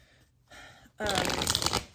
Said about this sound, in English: Okay, I'm gonna shuffle.